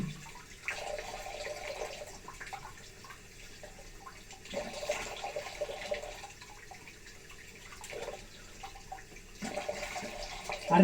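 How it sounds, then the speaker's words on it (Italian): A bathroom tap runs slowly while someone rinses their face, producing soft intermittent splashing and gurgling water in bursts, fairly quiet and close. "oltre all'acqua che non esce calda, adesso sta uscendo calda, adesso, ma esce pure piano"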